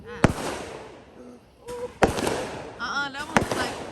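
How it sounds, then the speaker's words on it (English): Small fireworks go off outside as three sharp, loud cracks spaced a second or more apart, with people talking between and over the bursts. "all these little cute fireworks."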